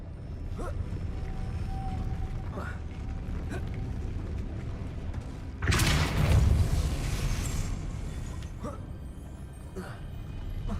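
A Depulso spell cast in the Hogwarts Legacy video game bursts out suddenly midway as a loud, brief whoosh and impact, rising above a steady bed of ambient game sound and quieter background effects.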